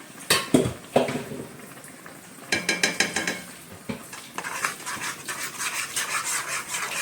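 Pizza sauce being stirred in a pan with oregano and sugar, a spoon scraping and clinking against metal in uneven bursts of rattling taps, close and fairly clear.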